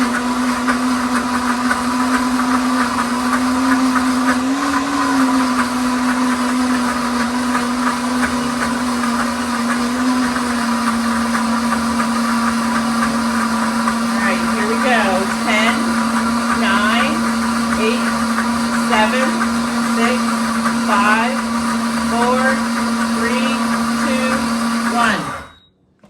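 A kitchen blender grinds peanuts into homemade peanut butter with a loud, steady motor whine and a churning, thumping texture that shifts near the end before the motor abruptly stops.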